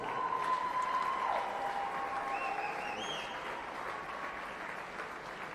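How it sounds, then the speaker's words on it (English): An audience applauds at a swimming championship, with steady clapping across an indoor pool hall that slowly fades, while a faint tone and a brief rising electronic chirp sound over it. "Let's give them a round of applause."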